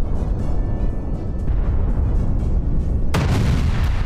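Explosions from an Israeli strike on a Hezbollah site at Jabal Blat in southern Lebanon rumble in deep, rolling booms, with a sharper, brighter blast near the end.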